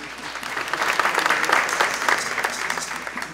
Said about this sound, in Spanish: Otro aplauso para Rubén Darío